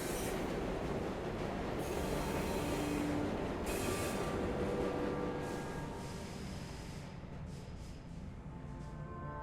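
A train in the video game Luna Abyss rolls in at the end of the line with a continuous rumble, rail hiss and faint wheel squeal. The noise eases off toward the end.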